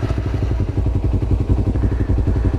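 A motorcycle engine fires up at the push of the start button and settles into a close, rapid, rumbling idle with a rhythmic low chug.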